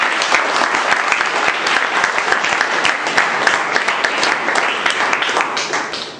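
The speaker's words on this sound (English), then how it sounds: "let's give her a good round of applause." Steady, full round of applause from the audience at a Toastmasters meeting, many hands clapping densely and loudly for several seconds, alone without talk.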